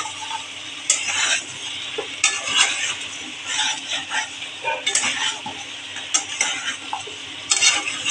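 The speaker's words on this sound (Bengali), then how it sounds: "এখন আমি আলুগুলো দিয়ে দেবো।" Potatoes added to a mutton curry frying in a pan with no oil, stirred with repeated scraping and clinking strokes over a steady close sizzle.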